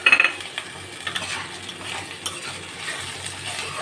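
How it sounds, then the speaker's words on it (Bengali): A spice paste is stirred and fried in a pan for a hilsa-head and taro-leaf dish, giving a soft steady sizzle with a few light clinks and scrapes of a utensil near the start, close and moderately quiet. "ভালো করে মশলাটাকে কষিয়ে নেব।"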